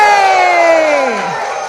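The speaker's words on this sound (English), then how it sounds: "If you're in the room, cheer for the people on Zoom." Crowd in a room at an affordable housing month kickoff event cheering loudly together, a sustained whooping roar with high voices that slowly tapers off.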